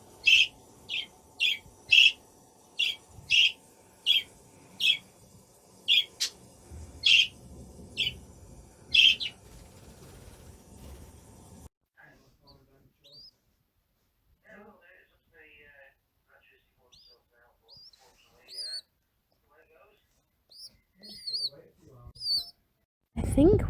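Baby pigeons in a nest give a series of thin, high-pitched peeping calls, repeated rhythmically at first, then sparser scattered cheeps later on, close and clear against a quiet background.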